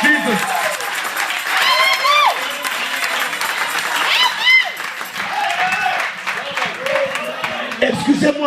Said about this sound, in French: Applause to Jesus.